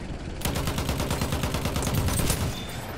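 A rapid burst of automatic gunfire rattles toward the player in Battlefield 1, sharp and fast for a couple of seconds, loud and close, over low battlefield rumble.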